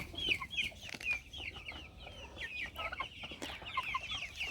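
Roosters and hens cluck in a steady chatter of short, overlapping calls, fairly close and continuous, with no voices over them.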